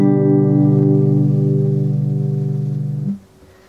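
A guitar bar chord is strummed once and left to ring, loud and close, its sustained tone fading slowly before being cut off, with no voices.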